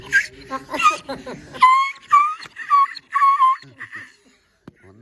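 A female dog whimpers and whines in a series of high, drawn-out cries, close and fairly loud, following a moment of people talking and then fading to quiet.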